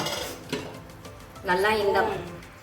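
Cooked rava being stirred in a pot, a soft scraping and clinking of a spoon against the pan, close and moderately loud, with a brief voice near the end.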